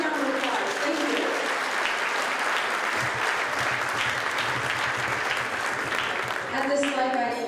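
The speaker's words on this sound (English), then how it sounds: "Let's give everyone a big round of applause" A large gathering applauds at a ceremony, broad continuous clapping that holds steady for several seconds and swells slightly near the end, with some voices mixed in.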